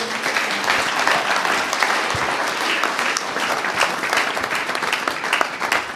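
Dense, sustained audience applause at a lecture on parenting, many hands clapping steadily and fairly loud for several seconds with no clear pauses.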